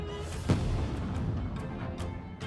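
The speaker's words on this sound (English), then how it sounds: "there's a loud Explosion." A deep explosion booms once in the distance as a storytelling sound effect, followed by a low sustained rumble and wash of noise.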